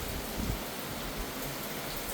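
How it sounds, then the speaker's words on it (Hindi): Heavy rain pours down in a sudden downpour, a steady dense hiss of water falling on surfaces, continuous and fairly distant with no voices. "तो अभी बहुत खतरनाक बारिश हो रही है"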